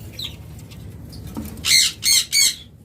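A pair of caged pineapple conures lets out three loud, harsh squawks in quick succession, close by, after a few faint chirps and a soft flutter.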